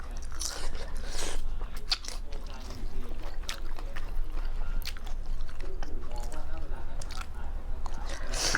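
Someone eating papaya salad with duck, close and loud, wet crunching bites and steady chewing that carry all the way through, with a busy background.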